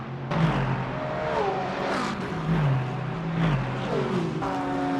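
Race car engines at Sebring in a sim racing esports event, several cars revving and shifting through gears, with pitch sweeping up and down as they pass close by and the engines layered over one another.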